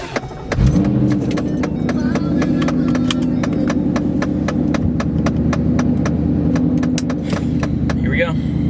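A Ford Mustang's engine cranks and catches about half a second in, then settles into a steady, close idle for the rest, with sharp regular clicks ticking over the running engine.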